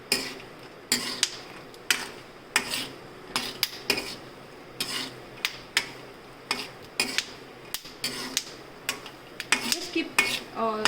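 Peanuts are stirred as they fry in a pan, with a spoon knocking and scraping against the metal in a steady series of sharp, close clacks under a faint background hiss.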